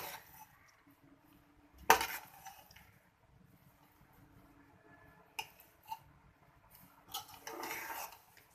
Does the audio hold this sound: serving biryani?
yes